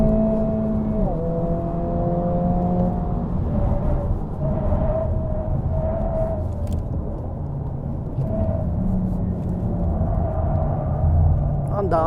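A Honda Civic Si with a 1.5 turbo engine being driven on a track, its engine droning steadily from inside the car with pitch shifts as gears change, while people talk over it.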